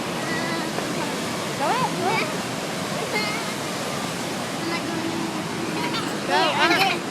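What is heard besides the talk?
waterfall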